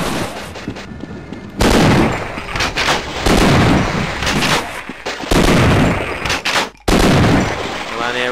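Shotgun blasts from the Half-Life video game, a run of loud booming shots with brief gaps between bursts, fired in close succession.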